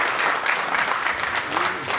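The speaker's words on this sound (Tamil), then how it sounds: "பாக்கியராஜ் சாருக்கு பலத்த கரகோஷம் கொடுங்க சார்" Audience applause at a Tamil film audio and trailer launch, a brief burst of clapping from a crowd, fairly close and steady for about two seconds.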